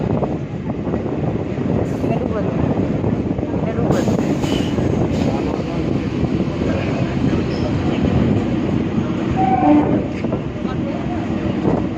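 A Howrah to Burdwan local train rumbles at a station platform, a dense continuous clatter and roar with wind buffeting the microphone and people talking faintly in the background.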